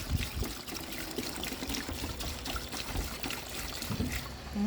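Naphtha is poured onto a tarp sheet, giving a continuous soft trickling and splashing of liquid, close and steady, without talk.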